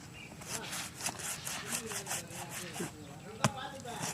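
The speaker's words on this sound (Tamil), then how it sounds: "தம்பி சுப்பு அண்ணா பலாப்பழத்தை கட் பண்ணி என்ன பண்ண போறோம்" A knife saws back and forth through a jackfruit in quick, rough strokes, close and fairly quiet, with one sharp click near the end.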